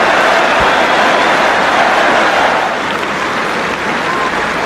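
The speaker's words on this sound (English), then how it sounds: "Finally, England have a wicket. Big cheer goes up." A big crowd cheers and applauds after England take a wicket against Australia at the 2009 Ashes first Test cricket match, a dense, steady roar that fills the whole stretch and eases slightly near the end.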